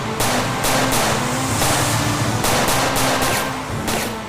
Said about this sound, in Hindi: उस औरत ने नीचे कुछ फेंका है और उस पर फायरिंग कर रही है